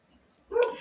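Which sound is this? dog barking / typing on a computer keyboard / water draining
dog barking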